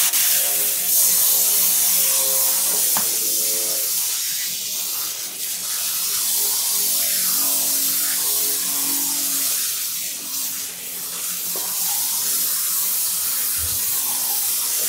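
Spray gun with an 8001 nozzle spraying PVC all-season bonding adhesive, a steady near hiss lasting the whole clip with brief dips.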